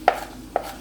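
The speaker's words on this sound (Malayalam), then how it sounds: "ഇനി വേണ്ടത് ഇഞ്ചി അരിഞ്ഞെടുക്കാം" A knife chops ginger on a cutting board for a Kerala-style chicken curry, two crisp close thuds about half a second apart.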